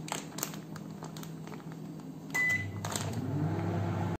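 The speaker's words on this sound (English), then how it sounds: "Now I will preheat my oven at 170 degree for 10 minutes." A kitchen oven heating to 170 degrees for eggless chocolate brownies, with a steady low electric hum running throughout, a brief beep partway through, and faint handling clatter at the start.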